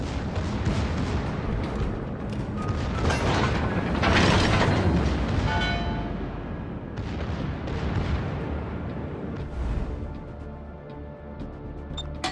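Torpedo explosions in a naval warship video game, a dense roar of booming blasts and rumbling bursts that swells loudest in the middle before settling into a continuous low rumble.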